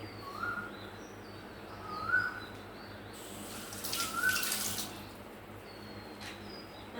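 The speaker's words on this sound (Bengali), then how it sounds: "হাতটা একটু ধুয়ে নিই।" Hands are washed briefly under a running tap in a home kitchen. A faint splash of water rises for a couple of seconds amid quiet room tone, while a few soft bird chirps sound in the distance.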